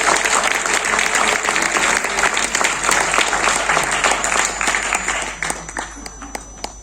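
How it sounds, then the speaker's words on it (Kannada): Dense audience applause at a music concert rings out loudly, then thins into scattered individual claps as it fades over several seconds. "ಒಂದು ಚಪ್ಪಾಳೆ ಹೊಡೆದು."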